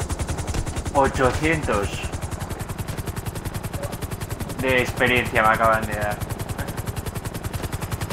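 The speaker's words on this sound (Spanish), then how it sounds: "aquí hay un tío con el helicóptero este que dispara" Helicopter gunfire in GTA Online: a rapid, steady stream of pulses runs through the whole stretch, loud and continuous, while someone talks over it in Spanish.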